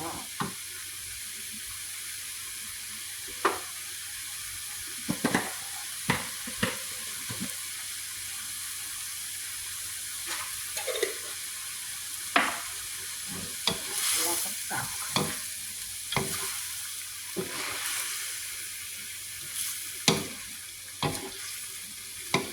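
Bean sprouts with chicken blood being stir-fried in a pan, a steady sizzling bed punctuated by irregular scraping clacks of the spatula against the metal, with a brief splash of water partway through.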